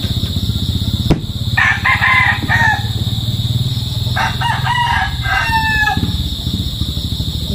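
A rooster crows twice nearby, loud drawn-out calls standing out over a steady rumble of background noise, with a sharp knock just before the first crow.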